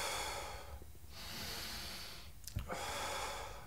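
A person breathes in and out during seated armchair exercise, slow audible breaths with soft inhales and exhales and a sharper snort-like breath near the end, faint and close with no talk.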